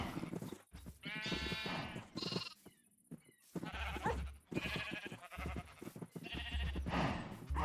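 Several sheep in the Minecraft video game bleat in quick, repeated wavering cries, close and clear, with short gaps between calls and no speech.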